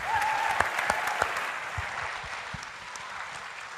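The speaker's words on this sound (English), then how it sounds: "give us one last round of applause for the panel" An audience at a science panel discussion at the American Museum of Natural History claps steadily for a few seconds, a dense, moderately loud wash of applause that slowly tapers off.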